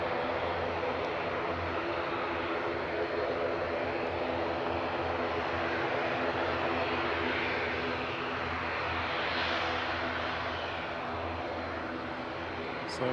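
An Aer Lingus Regional ATR 72-600 turboprop at Manchester Airport, its propeller engines giving a steady, even roar that holds at a moderate distance for the whole stretch without rising or fading.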